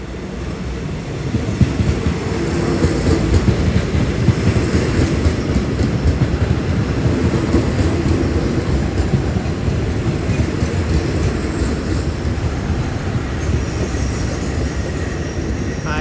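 A Thai SRT special ordinary-class train led by DHN 1130 diesel locomotive rolls past close by, a loud continuous rumble of wheels and clattering cars lasting the whole time, with a faint squeal of wheels now and then.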